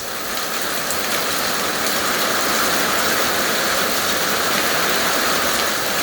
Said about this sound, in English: Talk about some rain. We have not stopped getting rain.